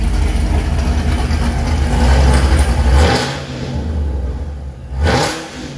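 A 2019 Camaro 2SS with a ProCharger supercharged V8 and BTR cam runs up close with a deep, throaty rumble, revving higher twice before settling back toward a lower idle.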